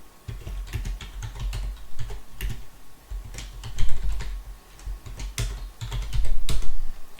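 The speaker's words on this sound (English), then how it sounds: "we can simply start typing in a basic program if we want" Keys clatter steadily on a Mattel Aquarius computer keyboard as a BASIC program is typed in an emulator session, with irregular bursts of close, crisp keystrokes and no talk.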